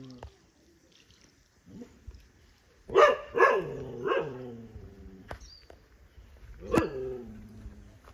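A dog barks outdoors, a few sharp barks at moderate distance with gaps between, then one more bark later, over a quiet background with faint other sounds.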